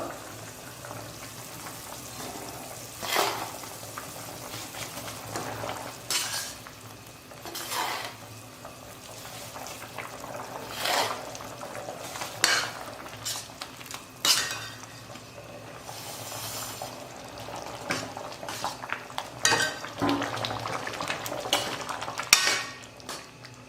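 Semolina goes into a pan with tomatoes for a kichadi and is stirred, with a metal spoon scraping and clinking against the pan over a soft, steady sizzle, in irregular close bursts.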